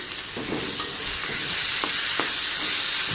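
Leafy greens fry loudly in oil with a constant hiss while a utensil stirs and scrapes through them in a few distinct strokes. No one speaks.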